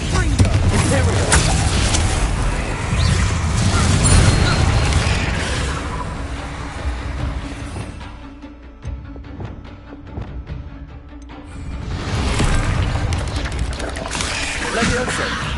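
Confringo fire spells blast repeatedly in Hogwarts Legacy combat, loud booming bursts over a dense bed of game effects and music, easing off midway before the explosive action swells again.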